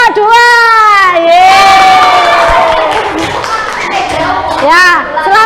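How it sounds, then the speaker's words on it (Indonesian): A sixth-grade class of children clap together, with high-pitched young voices cheering and shouting over the applause. "Kita kasih aplaus sekali lagi."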